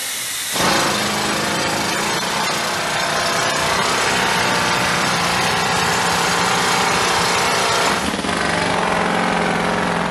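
A loud, continuous rock drill grinding and hammering through stone, a dense steady roar that starts abruptly and holds throughout, with a brief change in tone near the end.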